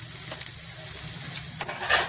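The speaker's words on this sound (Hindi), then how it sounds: "कढ़ी को मैंने छौंक दिया है ये" Kadhi, a buttermilk curry with pakoras, sizzles steadily in a pan after tempering, a soft, continuous fry hiss with light stirring close by and a brief louder burst near the end.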